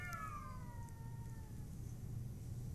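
A cat meows several times in a TV studio, a drawn-out descending cry with a couple of shorter calls, heard over a low steady room hum with no speech.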